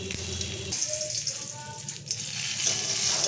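Fennel seeds dropped into hot ghee for chicken patiala, giving a steady bright sizzle and crackle that runs close and continuous for the whole stretch, with faint kitchen clatter underneath.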